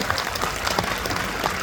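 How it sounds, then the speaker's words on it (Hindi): Audience clapping at a seminar session in Imphal, a steady broadband patter sustained for under two seconds at moderate level, with no voices over it. "इसके लिए ताली होना चाहिए ना"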